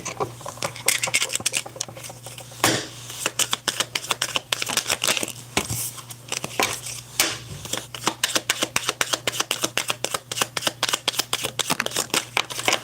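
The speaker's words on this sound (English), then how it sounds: "I'm going to pull a few more cards and then I'm going to do your read" Tarot cards are shuffled and pulled in a quiet room, making a continuous run of rapid, close riffling and flicking snaps with brief pauses between bursts and no talking.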